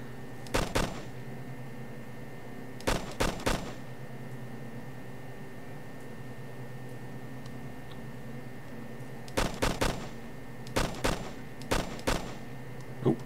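Gunfire in ArmA: Cold War Assault, heard as short bursts of two or three crisp, sharp shots in clusters separated by quiet gaps, fairly close and distinct over a low steady background hum.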